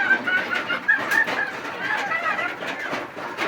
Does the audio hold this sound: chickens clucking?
yes